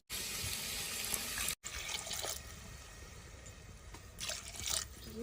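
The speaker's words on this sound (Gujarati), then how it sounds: "2 ગ્લાસ પાણી નાખી દીધું" Water streams and splashes into a pot for a few seconds, briefly stopping, then continues pouring with gurgling bursts, close by.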